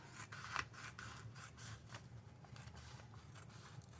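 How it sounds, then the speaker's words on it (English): Scissors cutting through paper for a craft envelope, a steady run of close, crisp snips with a sharper cut near the start and no talking. "Let's just go ahead and see if we can get this cut straight."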